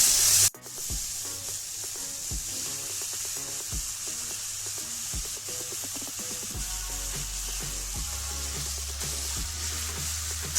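Brinjal and tomatoes fry in a pan for a smoked brinjal curry, giving a steady sizzle with rubbing, scraping spatula strokes and occasional soft knocks throughout. No one speaks.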